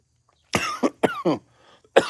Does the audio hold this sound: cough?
yes